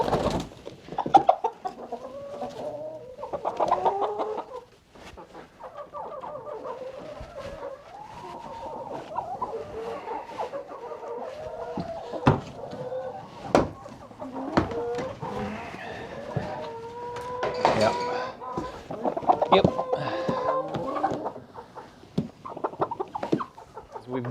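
Dozens of hens cluck and murmur inside a farm chicken coop in winter, a continuous close chorus of varied clucks and squawks with occasional louder calls, and a person talks briefly among them.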